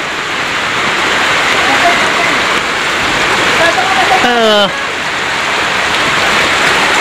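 Heavy typhoon rain from Typhoon Kristine pours in a steady, dense hiss throughout, with a brief chirping call cutting through near the middle.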